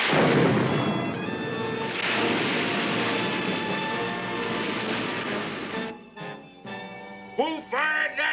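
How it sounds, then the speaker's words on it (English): A cannon booms aboard a ship during a hunt with a harpoon, making a loud rumbling blast that decays over several seconds before shouted voices break in. "Who fired that cannon?"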